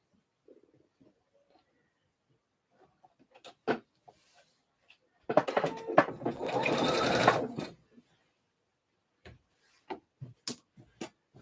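Sewing machine edge stitching a slip dress, one short burst of steady stitching close by, surrounded by quiet handling clicks and taps before and after.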